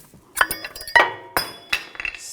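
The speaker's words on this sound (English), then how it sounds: "You can take the brake pads, take them off the caliper" Brake pads pried out of a front caliper on a 2006-2010 BMW 550i: a string of sharp metallic clinks and clacks, close and fairly loud, in irregular bursts with short gaps, no talking.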